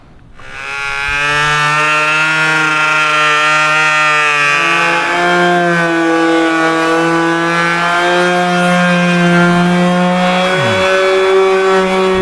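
A wood router cutting an edge profile along a large wooden table runs as a loud, steady whine with a strong tonal hum, spinning up at the start and holding, with a brief pitch drop near the end.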